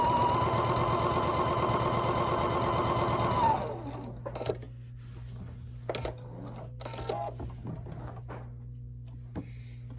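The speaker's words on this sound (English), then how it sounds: "And then I start sewing my 1/4 inch seam again." A sewing machine runs steadily for about three and a half seconds, stitching a quarter-inch fabric seam on a Texas Star quilt, then stops, leaving only quiet handling noises and a low hum.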